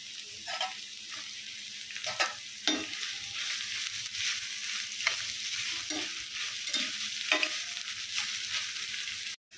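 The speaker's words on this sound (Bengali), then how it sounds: "দিয়ে দিচ্ছি পেঁয়াজ কুচি" Chopped onions frying in mustard oil in a pan, a steady sizzle with intermittent stirring scrapes, close and moderately loud, no talking.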